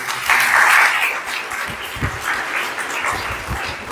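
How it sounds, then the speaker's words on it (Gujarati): Loud applause breaks out from an audience at a school education and essay competition event, a burst of dense clapping that peaks early and then continues as steadier, slightly thinner clapping. "ફરી એકવાર જોરદાર તાળી."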